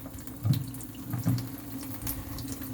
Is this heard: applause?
no